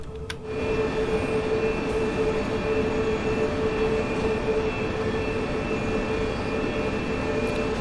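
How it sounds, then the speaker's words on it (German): A class 423 S-Bahn electric train in Train Sim World 3 on the Köln-Aachen line, passing close by with a steady rolling rumble, a sustained tonal hum and a brief sharp squeal at the start. "Das sieht aus wie jene S-Bahn, die Olle 423."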